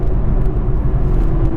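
A 2017 Chevrolet Camaro SS 1LE runs with a loud, steady low-pitched engine rumble and drone, close up and continuous without a break.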